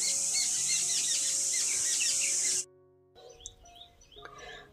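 Birds chirping outdoors near a house garden, a dense run of quick, high twittering calls up close for a few seconds, then a brief lull before scattered chirps return.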